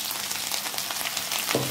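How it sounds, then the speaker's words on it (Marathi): Finely chopped garlic and ginger fry in two to three spoonfuls of hot oil for an Indian-style cabbage dish, giving a steady, loud, close sizzle with no break. "आता यात आपण घालत आहे बारीक चिरलेला लसूण आणि बारीक चिरलेला अद्रक."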